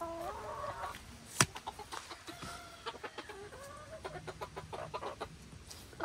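Chickens cluck in a backyard coop at a rural home, a run of short, close, overlapping calls with a few sharper squawks, steady and unhurried, with no voices.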